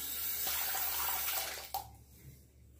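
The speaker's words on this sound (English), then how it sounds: "Time to rinse the razor again." A tap runs steadily as a Gillette Black Beauty safety razor is rinsed under the stream, a close, full splashing that stops abruptly partway through, leaving only a faint room hush and a few small drips.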